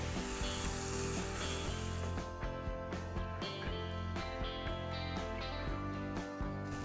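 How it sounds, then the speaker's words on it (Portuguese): Onions grilling on a hot surface in rendered bacon fat for a beef rib burger, a steady loud sizzle with frequent sharp crackles and pops throughout, no talking. "eu vou colocar também as cebolas para grelhar em cima da gordura do bacon"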